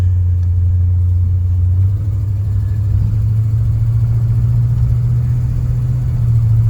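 An LS-swapped square body truck runs with a steady, deep engine drone, its pitch stepping up slightly partway through as it shifts through the gears, heard close and continuous.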